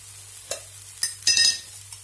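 A wheat dosa on a hot pan gives a crackling sizzle, with a few sharp scraping strokes and one brief louder rasp, close up and with no voices.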